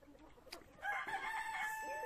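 An Araucana rooster crows inside a chicken coop, one drawn-out, fairly faint crow rising after a few short clucks and scratchy background noises.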